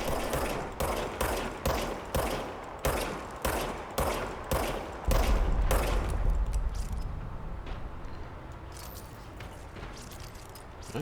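Rapid rhythmic gunfire from a weapon in the video game Control, about a dozen loud evenly spaced shots in a steady burst, then a deep rumbling boom that fades out.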